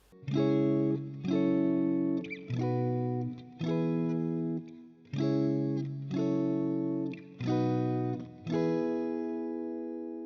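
Distorted electric guitar strums the four-chord intro progression of a pop song, each chord struck and held for about a second, cycling twice through at a steady pace.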